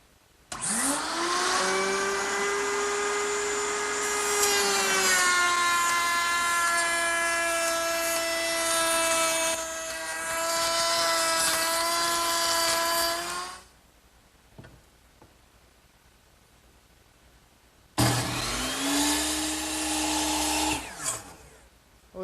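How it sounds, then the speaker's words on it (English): A router mounted in a router table cuts wooden molding with the same cutter used on a kitchen hutch top edge, giving a loud, steady motor whine for about thirteen seconds, then quiet, then a second shorter loud run. "I've got it set up in my router table,"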